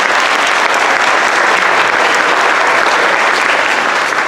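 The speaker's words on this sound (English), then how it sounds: "Let's hear it for Tyler" At a school concert, an audience breaks into loud, sustained applause, a dense wash of clapping that fills the hall for several seconds without pause.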